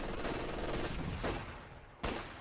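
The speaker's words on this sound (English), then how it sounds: "Can he actually get the counter snipe? There goes the shot." Gunfire in the Company of Heroes 2 battle game, a sniper rifle shot among it: dense crackling bursts of shooting that fade, then one sharp, loud crack near the end.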